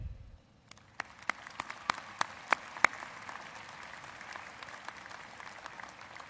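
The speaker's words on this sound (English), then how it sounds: "join me in a round of applause" Audience applause at a university spring commencement ceremony, a steady wash of many hands clapping from a distance with a few sharper nearby claps standing out, fairly faint throughout.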